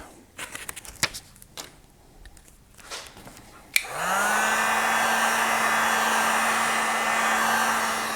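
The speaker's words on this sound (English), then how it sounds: "Gonna heat that panel as well a little bit." A heat gun warming a panel switches on after a few soft handling clicks and taps, then blows as a loud, steady close whoosh with a constant motor whine until the end.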